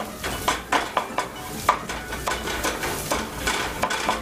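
Shrimp soup ingredients sizzle in a hot, smoking pan while a utensil scrapes and clinks against the metal in quick, uneven strokes, close and fairly loud over a steady frying hiss.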